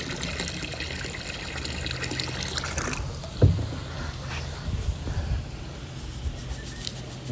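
Liquid chlorine poured into a spa, a steady gushing splash of liquid under outdoor background noise, with a few small knocks and trickles as the pour ends.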